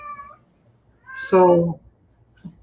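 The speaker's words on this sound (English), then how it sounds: "the kitty wants out already" A cat meows to be let out: a short call, then a louder, drawn-out meow and a faint final chirp. A voice speaks briefly at the start.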